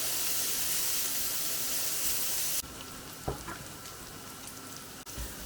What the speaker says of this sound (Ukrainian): І висмажимо добре, зробимо такі рум'яні шкварочки